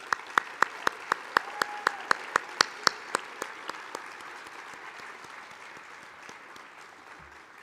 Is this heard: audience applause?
yes